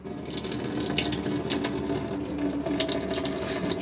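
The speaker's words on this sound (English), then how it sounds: "As long as you've got your pump on, you'll get pressurized water." Water runs steadily from the kitchen tap of an Auto Trail V-Line 540 motorhome, fed by its onboard pump, with a close, continuous splashing flow into the sink.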